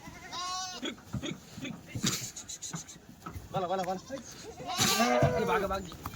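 Several Kathiawari sheep bleat in wavering, quavering calls over a noisy outdoor background, some close and loud, others overlapping, with scattered shuffling in between.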